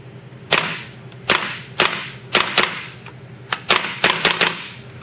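A WE M4 open bolt gas blowback airsoft rifle dry fires on semi-automatic, giving about ten sharp metallic cracks at irregular spacing, loud and close with nothing else over them.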